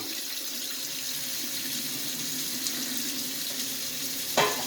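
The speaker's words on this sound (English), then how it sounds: "just rinsing off the pan a little bit" Tap water runs steadily into a kitchen pan being rinsed, a continuous close hiss with light splashing, ending in a brief louder clatter near the close.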